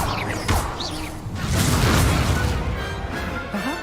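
Spell blasts in Hogwarts Legacy, fire and explosive curses cast in a dueling tournament: whooshing launches followed by booming impacts and crashes, several bursts in quick succession.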